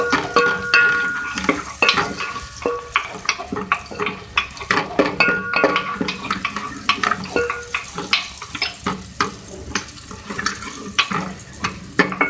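Onions and turmeric sizzle and fry in a pan with scraping and stirring from a utensil, busy and close, with no voices.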